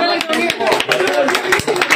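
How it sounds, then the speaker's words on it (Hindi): A burst of clapping from a group, rapid and uneven, mixed with voices talking and cheering over it. "जोरदार तालियां"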